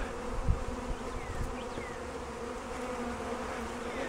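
Honey bees from a package being installed into a hive buzz in a dense, continuous drone, close and steady, with a few individual bees whining past.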